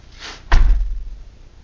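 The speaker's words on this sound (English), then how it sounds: "Let's go ahead and close the door again." A freshly installed basement door closes with a single solid thud and a brief latch click, followed by a short low rumble that quickly fades.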